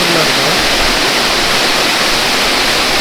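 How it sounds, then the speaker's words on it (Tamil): A roadside waterfall in the Kurangani hills on the way from Bodi roars as a loud, steady, broadband rush of falling water, close and continuous with no break. "போடியில இருந்து குரங்கணி போற மலைப்பகுதியில இந்த ஃபால்ஸ் எல்லாம் நம்ம பார்க்கலாம்"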